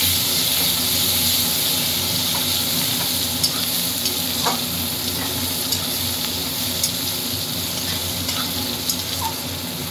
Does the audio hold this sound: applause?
no